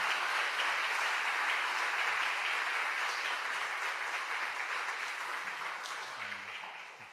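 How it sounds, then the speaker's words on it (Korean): Audience applause welcoming a missionary to the pulpit at a church service, a dense steady crowd of clapping held for about seven seconds and slowly fading toward the end, with no talk. "박수로 환영해 드리도록 하겠습니다"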